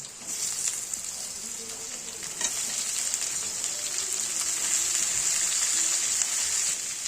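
Eggplant, potato and pumpkin pieces frying with lightly browned onions in a pan for a Bengali chhyachra, a steady bright sizzle with a sharp clatter near the middle as the vegetables go in, faint and continuous, no talking.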